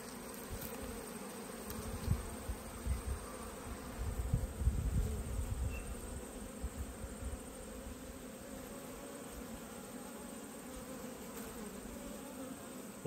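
Honey bees drone steadily around an open backyard hive in autumn, a dense continuous buzz filling the space with a few louder passes close by and no talking.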